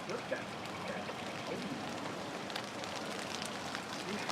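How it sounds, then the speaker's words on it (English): Soft rain falling outdoors, a faint, steady pattering hiss of light drops on surfaces, even and continuous without distinct voices. "we're being sprinkled by a soft rain"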